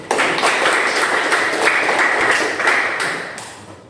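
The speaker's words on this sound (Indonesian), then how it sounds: "mari kita memberi aplaus" Classroom applause for a group presentation: dense, steady clapping from a room of students that fills the whole stretch at even strength, then begins to thin and fade toward the end.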